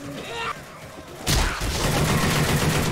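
Gunfire in Left 4 Dead 2: a quiet start, then a loud burst of rapid shots that turns into a sustained volley of blasts and clatter to the end.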